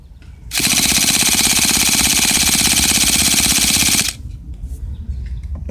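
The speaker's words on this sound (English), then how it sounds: "It has that deep chugging sound," Traxxas T-Maxx nitro RC truck engine chugging over without starting, a loud, steady rapid rhythmic chug that runs for about three and a half seconds and then cuts off abruptly, leaving low background noise.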